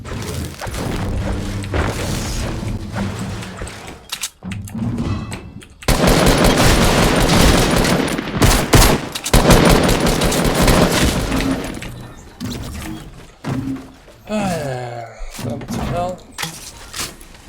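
Shotgun blasts go off in a Fortnite solo tournament match, several loud booming shots in a cluster amid other gunfire bursts, with people talking before and after.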